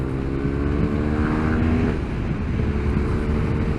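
A motorcycle boxer engine, a 1200 or 1250, runs on the highway with a steady droning tone and rising and falling pitch under rushing wind, loud and continuous without talk.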